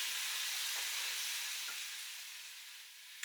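Gammon and pineapple stir fry hissing steadily in a hot pan, a broad even sizzle that eases slightly toward the end, near and without talk.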